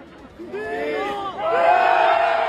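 A crowd cheers and whoops, building from scattered shouts into a louder, sustained roar of voices over a couple of seconds.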